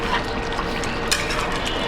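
Liver simmering in its own released juices in a pan, a close wet bubbling and sloshing with soft stirring scrapes, steady and moderately loud for under two seconds.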